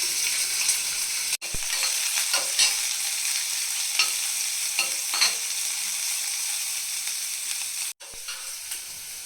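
Loud, steady sizzling of chopped onion and green chillies frying in a pan, with scraping stirring strokes breaking through at intervals.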